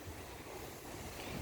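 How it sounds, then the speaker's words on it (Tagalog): Strong north wind gusting across a rooftop sleeping area, a faint, steady rushing roar with wind buffeting the microphone and no talk. "Umuugong yung hangin."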